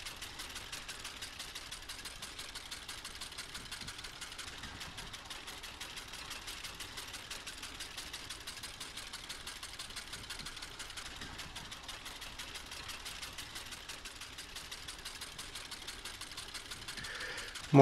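Small tractor engine running steadily in Farming Simulator 19 during hay mowing, a constant buzzy mechanical drone that holds at an even level throughout with no talk.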